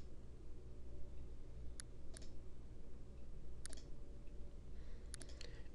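A few quiet computer mouse clicks while opening PDF bookmarks, scattered in small pairs over a steady low background hum, with no voices.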